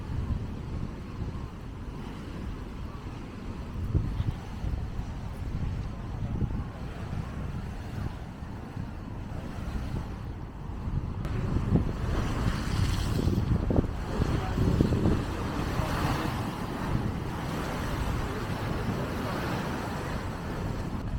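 Strong sea wind at a seaside promenade in Caddebostan, Istanbul, buffets the microphone in a continuous roar, with the rush of waves underneath, growing louder partway through.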